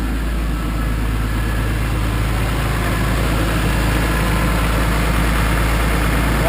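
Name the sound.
BMW M3 engine idling after startup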